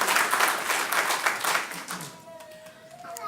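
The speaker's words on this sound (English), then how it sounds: "One more round of applause." Audience applause at an adoption day event: a burst of loud, dense clapping that fades over a couple of seconds, with a voice speaking as it dies down.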